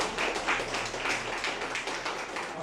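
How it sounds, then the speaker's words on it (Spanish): Church congregation applause at a family worship meeting, a steady, dense patter of many hands clapping throughout. "Podemos dar un aplauso al Señor"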